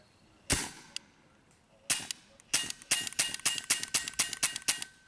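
A Benjamin Armada regulated .22 calibre PCP air rifle fires in semi-auto, a few spaced sharp cracks followed by a quick, steady string of about a dozen close, snappy shots.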